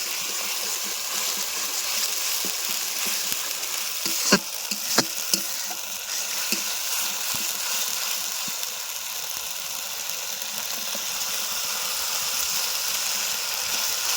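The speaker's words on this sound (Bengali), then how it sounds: "ভালো করে কষিয়ে নেবো" Masala with green chillies and tomato paste stir-fried in a pan during a riverside cooking session, a continuous bright sizzle with a few sharp scraping clicks, no talking.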